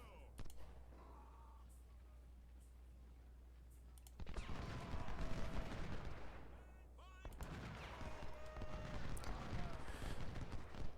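Civil War battle at Shiloh in Ultimate General: Civil War, with scattered musket shots and artillery booms building into dense volleys and rumbling gunfire, loudest after a quieter opening, with some talk mixed in.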